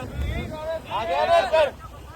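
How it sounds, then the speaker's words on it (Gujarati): Riding in a speedboat at Diu, with rushing wind buffeting the microphone and engine and water noise underneath, while people's voices and excited shouts rise over it midway. "તો છીએ અમે સ્પીડ બોટમાં અને ફર્સ્ટ વાર કરીએ છીએ રાઈડ"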